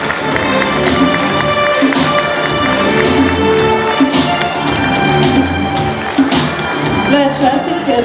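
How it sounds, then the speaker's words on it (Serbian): An audience at a beauty pageant applauds and cheers the newly crowned Miss Srebrenik 2007, producing loud continuous clapping mixed with shouts and whistles that carries on for several seconds. "Veliki aplauz za novu Miss općine Srebrenik za 2007. godinu"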